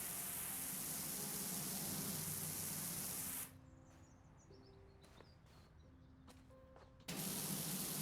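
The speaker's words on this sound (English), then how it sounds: "See, we can spray these things even though we can't get to them." Loud, even hiss of a pressure washer spraying water in PowerWash Simulator 2, stopping for a few seconds amid faint clicks and chirpy tones, then starting up again just as strongly.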